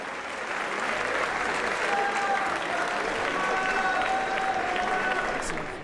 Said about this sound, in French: Et on peut applaudir Terry Ron,